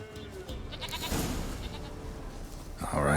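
In The Witcher 3: Wild Hunt, a goat bleats amid a dense, noisy game soundscape, its cry partly buried under the steady background din.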